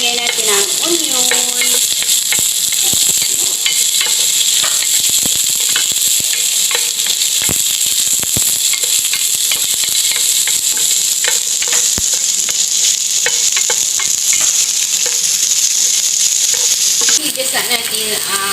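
Chopped onion sautéing in hot oil for adobong pata, a Filipino pork hock adobo, giving a loud, steady, continuous sizzle with faint clicks of stirring throughout.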